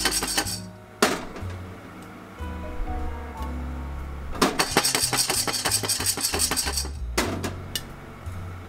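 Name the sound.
coffee beans first crack while pan-roasting Guatemala coffee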